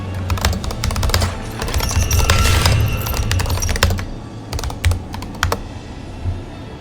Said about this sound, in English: Here, I'll type it.